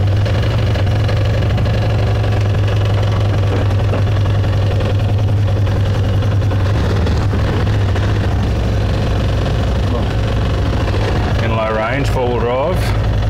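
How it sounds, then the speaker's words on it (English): A side-by-side UTV engine drones low and steady as it drives up homemade aluminium ramps, close and loud, with a brief burst of other sound near the end. "now it's time to jump on the side by side and the moment of truth, drive this thing up the ramps"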